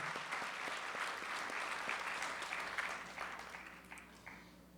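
Audience at a Gujarati stage program clapping for a sound engineer, dense sustained applause from a large crowd that gradually thins and fades toward the end.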